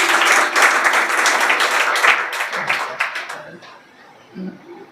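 A roomful of people claps for performers whose names were just read out, the dense applause loud for about three seconds and then tapering off into quieter murmuring.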